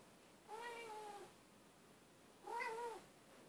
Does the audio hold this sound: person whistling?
no